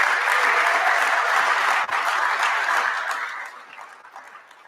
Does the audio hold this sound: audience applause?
yes